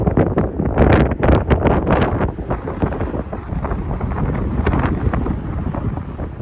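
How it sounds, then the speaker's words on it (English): Loud gusts of wind buffet the microphone in rough bursts, strongest at first and then settling into a steady roar. "It's kind of windy up here."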